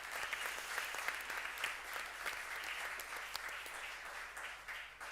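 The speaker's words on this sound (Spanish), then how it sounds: "Un aplauso para Iñaki Setua." An audience at a memorial tribute to Iñaki Añua breaks into sustained applause, a dense, even patter of many hands that holds for about five seconds before easing slightly at the end.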